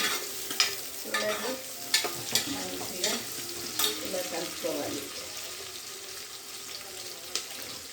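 Onion frying in a pan for minapappu tomato curry, stirred with a utensil that gives scattered scraping clicks over a steady soft sizzle, with water running faintly in the background.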